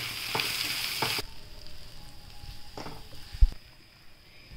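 Powdered spices, black pepper and turmeric sizzle in hot oil in a pan for chicken bhuna masala. A loud, bright frying hiss at the start drops to a quieter crackle, with a couple of spoon scrapes and a soft knock.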